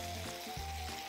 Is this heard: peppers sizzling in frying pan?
yes